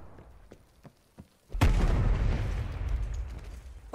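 A launcher fires in a video game, a few faint clicks and thuds leading into one sudden loud boom, followed by a long rumbling explosion roar and debris that fades slowly.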